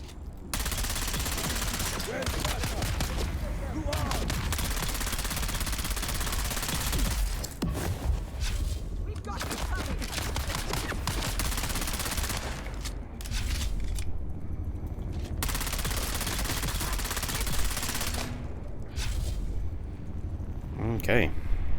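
Disruptor gun fire in the Dune: Awakening video game, loud sustained bursts of shooting with heavy rumble over a busy game soundscape, speech mixed in.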